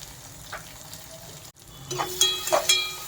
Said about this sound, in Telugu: ఉల్లిపాయలు ఇంకొక 1 మినిట్ వేగితే సరిపోతుంది